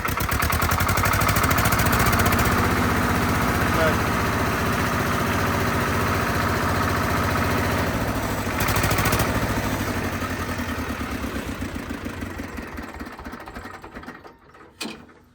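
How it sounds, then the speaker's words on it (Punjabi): A Swaraj 724 tractor's diesel engine idles steadily with a rough, chugging mechanical rumble, then slows and sputters to a stop near the end. "ਲੈ ਬਾਈ ਆਵਾਜ਼ ਸਾਨੂੰ ਚੈੱਕ ਕਰਾਈ ਆ ਟਰੈਕਟਰ ਇੰਜਨ ਦੀ"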